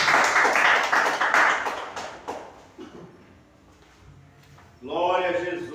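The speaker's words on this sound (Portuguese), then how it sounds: "Graças a Deus e as palmas do Senhor Jesus." A church congregation at an Assembly of God service in Eunápolis bursts into loud clapping and applause, which fades into a quieter stretch before a voice begins speaking again.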